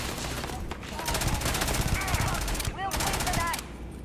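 Rapid AK rifle fire in the space game Starfield: dense bursts of automatic shots crackling in quick succession, with whooshing impact or ricochet sweeps near the end, loud and continuous.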